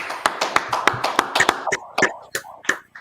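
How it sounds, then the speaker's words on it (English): A men's class group claps in unison, sharp close hand claps in a quick steady rhythm, about a dozen strikes that slow and space out toward the end. "clap it up"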